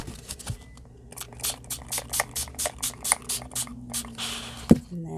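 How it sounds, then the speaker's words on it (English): Spray paint hisses over a stencil in a rapid run of short, even bursts, close and fairly quiet, ending with a sharp knock and a brief rustle. "Here, let's just spray it."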